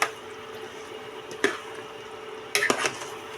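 Carbonara pasta is stirred through its sauce, giving soft wet squishes and sticky smacking sounds, with a few sharper utensil scrapes against the pan, close up and quiet.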